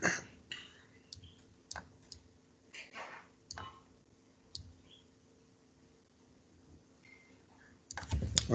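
Computer keyboard keys clicked in a loose sequence of sharp taps with pauses, ending with a louder Ctrl+Enter press and a cluster of closer clacks and rustle at the end.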